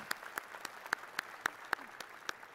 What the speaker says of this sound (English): recognize them with a round of applause